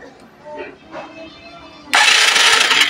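A Suzuki Hayate 125 motorcycle that is hard to start, electric starter pressed while the battery charges: quiet mechanical noises, then a loud sudden whirring crank of the starter motor that runs steadily to the end.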